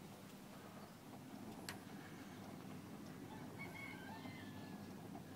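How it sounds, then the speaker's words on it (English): A rooster crows once, faint and somewhat distant, over steady outdoor background noise and a low rumble near a harbour with boats. "the cockerel there"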